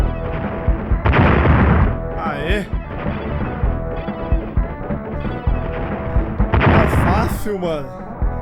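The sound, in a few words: gunfire in Aerosmith Super Nintendo video game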